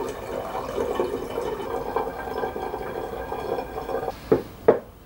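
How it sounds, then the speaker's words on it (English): Wine pours steadily from one bottle into a second glass bottle, a continuous close-range gurgling trickle lasting several seconds, then two short sharp splashy glugs as the pour ends; no voices. "we poured our wine into a new bottle"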